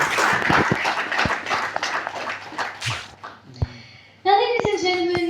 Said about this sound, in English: Another round of applause, ladies and gentlemen, to Scope Cinemas, our cinema partner.